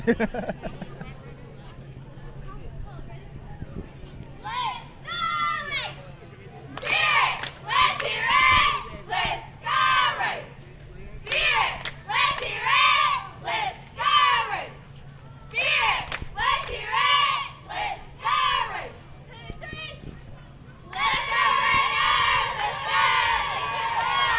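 A crowd along a high school homecoming parade route cheers and shouts in repeated bursts, children's voices prominent, with talk heard between the waves of noise.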